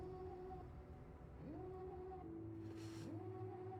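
A house cat gives two drawn-out, rising meows a second or so apart, faint and close over a steady background hum, with no talking.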